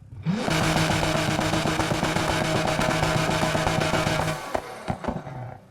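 A car in the racing video game Need for Speed Heat revs steadily with a whistling, metallic exhaust tone, loud and continuous for several seconds before cutting off into a few short pops.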